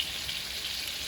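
Filet mignon frying in a skillet on low heat, a soft, even sizzle and crackle holding steady throughout, with no talking.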